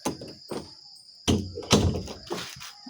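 A door closes and gets locked with a series of clunks and thunks, several separate knocks and a metallic latch over a few seconds, with a faint steady whine behind them.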